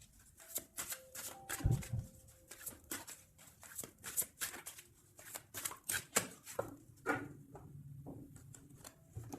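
Tarot cards are cut and shuffled by hand up close, giving quick papery riffles and soft slaps in irregular bursts against a quiet room.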